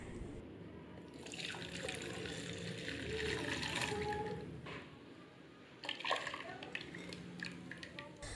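A liquid custard mixture is poured back into a saucepan, a soft, close trickling and splashing that swells and then tapers, with a brief clatter near the end and a voice speaking.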